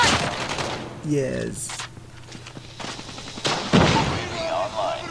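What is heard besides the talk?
gunfire in a video game shooter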